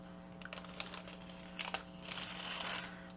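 Small plastic packets of metal bead caps being torn and opened up close, with quick crinkling, rustling and a few clicks, followed by a longer crackle of plastic near the end.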